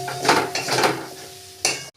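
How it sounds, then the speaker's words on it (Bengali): Oats, peas and spiced vegetables being stirred in a pan for oats khichdi, a few soft scraping and clinking strokes of a utensil over a faint sizzle, ending with a sharper knock. "এবার দিয়ে দেবো ওটস, এটাও ভালো করে একটু নেড়ে নিচ্ছি"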